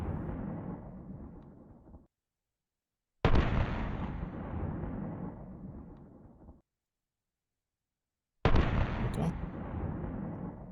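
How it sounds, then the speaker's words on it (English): Three loud, sharp blasts from a Steyr GB pistol, each a sudden burst with a long decaying tail, separated by brief silences. "now it's ready, firing."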